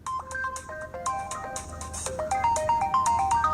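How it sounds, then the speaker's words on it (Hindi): A mobile phone plays a bright electronic ringtone melody, a repeating pattern of clear synthetic notes over a few seconds, near and loud with no talk over it. "किसका फोन है?"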